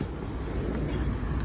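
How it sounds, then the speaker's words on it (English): A Subaru Outback 2.5L non-turbo engine runs at a steady idle, a low, even rumble with a faint hum and no clear revving. "start the engine"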